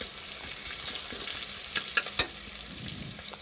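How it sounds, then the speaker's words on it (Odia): Spices fry in hot oil for a dal tempering, making a steady close sizzle with a few light stirring scrapes and one sharp clink. "ତାପରେ ଦେଖନ୍ତୁ ଏଠି ମୁଁ ଡାଲି ଛୁଙ୍କ ଦେବା ପାଇଁ ପ୍ରସ୍ତୁତ କରୁଛି"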